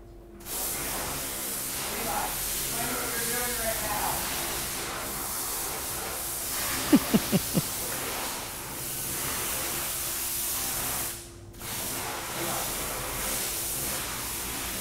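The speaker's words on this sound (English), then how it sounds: "So I just sprayed it down with ASC" Hissing bursts of a spray bottle as a car is sprayed down with ASC cleaner, soft airy spritzes with a few sharp clicks of the trigger in the middle, fairly close.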